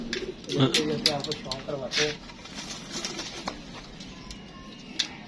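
Pet pigeons kept as a hobby coo in soft repeated bursts close by, while someone talks over them for much of the time.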